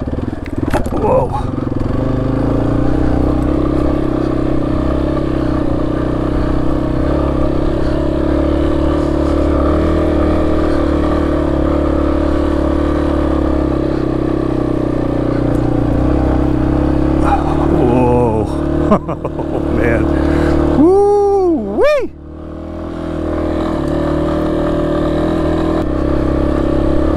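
A Yamaha XT250 dual-sport motorcycle climbs a hilly road, its engine droning loud and steady for the whole stretch, with a brief throttle change near the end.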